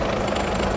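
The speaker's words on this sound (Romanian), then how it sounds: "auzi în tine muzical cum lucrează tractorul ăsta" An MTZ-80 tractor engine runs steadily nearby, a dense continuous rumble with a low knocking pulse and no pauses.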